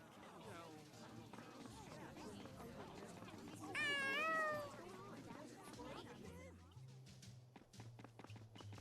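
Cats meow in the video game Tales of Xillia 2, with one clear, rising-and-falling meow standing out midway over game background sounds and a person talking throughout.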